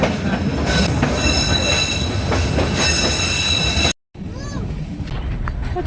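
A Shan train climbs into the hills toward Taunggyi on a century-old Myanmar railway, its cars rumbling and clattering with wheel squeal. The sound cuts out briefly and then returns more quietly.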